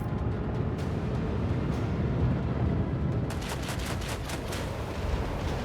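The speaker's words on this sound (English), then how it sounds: "I'm going to head here and shoot with our starboard guns" Starboard ship guns fire in a space battle in Warhammer 40,000: Rogue Trader, a loud sustained rumble of cannon fire followed by a rapid burst of sharp repeated shots.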